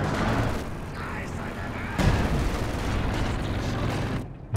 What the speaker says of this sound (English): He's getting wiped by the Zis barrage.